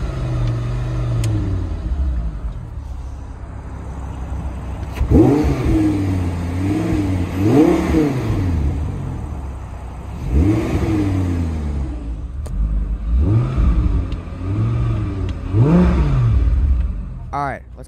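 A 2011 Audi R8 V10 Spyder convertible with its top down, idling and then blipped through several sharp revs in close succession, each rising and falling quickly over a deep rumbling idle, loud and close.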